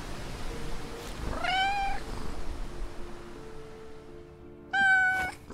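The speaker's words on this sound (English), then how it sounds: "Oh, he's purring." A cat in the video game We Harvest Shadows gives two clear, close meows a few seconds apart, each rising and falling, over a quiet ambient background rather than a steady purr.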